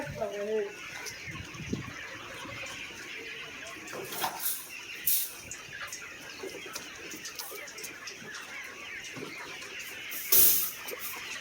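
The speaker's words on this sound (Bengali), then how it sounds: "এই যে মুরগিগুলো দেখুন" Chickens being gathered from a farm into cages let out sparse, intermittent clucks and a few sharper squawks against a quiet background, with faint voices now and then.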